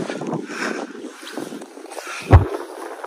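Wind gusts across a hilltop ridge in the Drumheller hills of Canada, buffeting loudly and close with rushing, uneven roar. A single heavier thump stands out near the end, and no one speaks.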